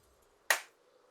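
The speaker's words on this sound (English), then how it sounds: "I was just clapping to appreciate your point there" A single sharp hand clap, close and crisp with a quick decay, standing alone against faint background hum with no talking.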